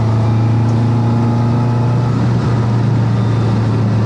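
Ford Escort with a forged engine droning loudly and steadily at sustained revs, a close, continuous hum with no talking.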